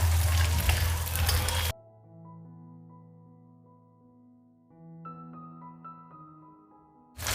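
Crushed garlic frying in hot oil as a tempering for aloo methi gives a loud, dense sizzle that cuts off abruptly. A quiet sustained tonal stretch follows before the sizzle briefly returns at the end.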